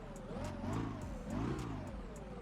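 Boat engine in BeamNG revving up under throttle, a close, steady motor drone that rises and falls in pitch twice, with faint regular ticking over it.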